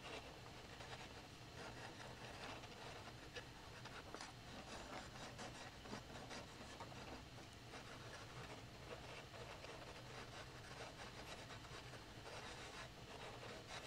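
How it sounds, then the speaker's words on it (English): A Japanese rasp shapes a roasted maple guitar neck in a steady stream of back-and-forth scraping strokes, close and continuous throughout. "I've just got one of the Stumac Japanese rasps and a spoke shave"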